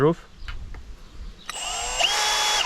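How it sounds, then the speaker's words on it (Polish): A Milwaukee M18 FPD2 cordless drill driver with a 16 mm wood bit whirs up sharply after a short spoken word and faint taps, its high motor whine climbing and holding loud and close until the end. "zobaczymy teraz jak sobie poradzi z funkcją wiercenia"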